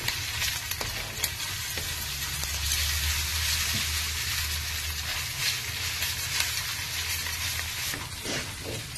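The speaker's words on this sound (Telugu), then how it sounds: "అల్లం వెల్లుల్లి పేస్ట్ కూడా ఇందులో వేసేసి పచ్చివాసన పోయే వరకు వేపుకున్నాం" Ginger garlic paste fries in a pan with a close, continuous sizzle, broken by stirring scrapes and soft clicks throughout, and no voices.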